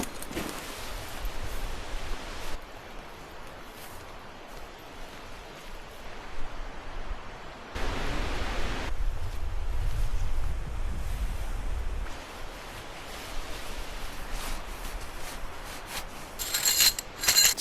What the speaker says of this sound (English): Still nice and breezy out.